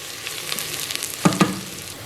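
Onions fry in a Geek Robocook smart electric pressure cooker, a soft steady sizzle with two brief louder stirring scrapes near the end; no one talks.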